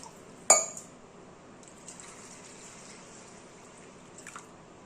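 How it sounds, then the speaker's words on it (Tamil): Water poured over rinsed millet and urad dal to soak them: a sharp clink of a vessel, then a faint, steady trickle of liquid filling the container, with a few small knocks near the end. "தண்ணி ஊற்றி நல்லா ஊற வைக்கணும்"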